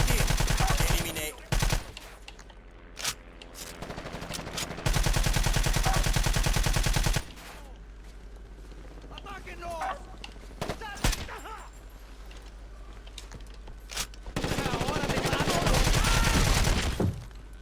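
Bursts of gunfire in the video game Ghost Recon Advanced Warfighter, with loud sustained automatic volleys alternating with sharp single shots and quieter gaps, close and harsh, with a little talk in between.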